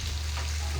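Onion and slit green chilies frying with potato in a hot pan make a brief, steady sizzle over a low constant hum.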